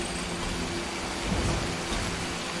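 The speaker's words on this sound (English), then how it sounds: "Flink downpour hier." A heavy downpour with thunder in a PS4 video game, a steady dense wash of rain with a low rumble swelling midway, and no voices over it.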